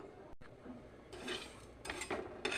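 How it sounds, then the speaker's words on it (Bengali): Whole cumin, black cumin, peppercorns, cloves, coriander seed, cardamom and cinnamon pieces dry-roasting in a pan for vegetable khichuri, with faint scraping and clinking as a spoon moves them around, growing slightly louder toward the end. "শুকনোগুলোতে ভালো করে ভেজে নেব"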